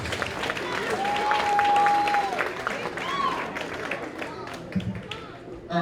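After a boxing bout at a fight night, the crowd gives the two boxers a sustained round of applause and cheering, with whistles and an announcer's voice over the steady clapping.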